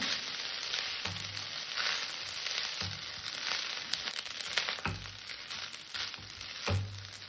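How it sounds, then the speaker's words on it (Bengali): Cooked rice fries quietly in a pan as ghee is stirred through it, giving a continuous faint sizzle. A few soft, dull scrapes and bumps from the spoon land every couple of seconds. "ঘিটাকে সব জায়গায় একটু মিশিয়ে দেবো।"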